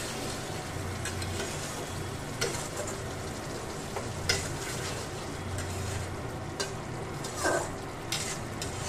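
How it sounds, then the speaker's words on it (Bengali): Onion goes into fried masala on high flame for a Rajasthani onion curry, giving a steady loud sizzle with rhythmic stirring scrapes and occasional clacks of spoon on pan, without speech. "এবার আমি পেঁয়াজটা এর মধ্যে দিয়ে দিচ্ছি।"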